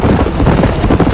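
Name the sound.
horse galloping in video game Red Dead Redemption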